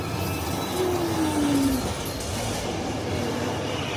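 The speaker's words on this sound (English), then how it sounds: "the tram moves left and right, or banks, or tips" Universal Studios Hollywood Backlot Tour tram rolling along its route, a steady rumble with a brief squealing whine partway through, heard with no talk.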